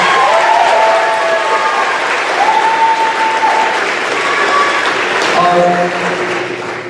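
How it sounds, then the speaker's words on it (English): Sustained applause from a crowd at a college athletics awards ceremony, loud and steady for several seconds before tapering slightly at the end. "Let's give Marina a round of applause."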